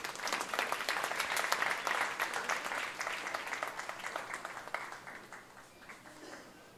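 Audience applause at a charitable home's memento presentation, a crisp patter of many hands clapping that swells early and then gradually fades, moderately distant and without talk.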